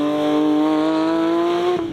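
A Porsche 911 GT3 70 Years edition in sport mode with auto blip, its flat-six holding a loud, steady, tonal drone from inside the car, no talking, pitch nearly constant with a slight dip near the end.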